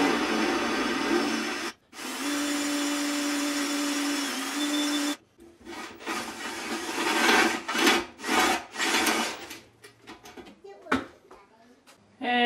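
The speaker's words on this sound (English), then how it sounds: "so I'm gonna have to use my cordless drill" A cordless drill whines steadily for several seconds, stops briefly, then runs again, followed by choppy bursts of grinding and clattering as it bites through the steel of an electronic safe lock.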